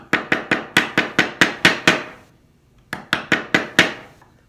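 Mallet strikes on a chisel cutting dovetails in a wooden drawer by hand, a close, crisp run of nine even knocks, a brief pause, then five more in steady rhythm, with no talk.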